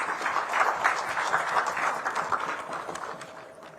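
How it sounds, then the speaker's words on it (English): Audience applause at a live event welcoming a government minister, sustained clapping from a large gathering that holds steady before gradually thinning toward the end. "Please welcome with a resounding applause."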